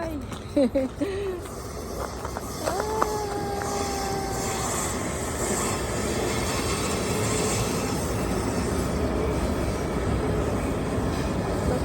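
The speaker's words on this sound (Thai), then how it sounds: "มาชมรถไฟกันค่ะ" A container freight train passes nearby in Luleå, Sweden, a broad steady rumble filling the scene with a long horn-like tone early on, while someone talks briefly at the start.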